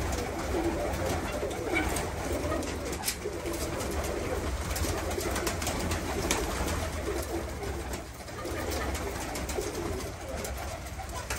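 Arab pigeons coo in a coop, soft repeated throaty coos rising and falling from several birds nearby, with rustling and light background noise.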